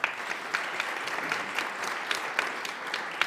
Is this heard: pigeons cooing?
no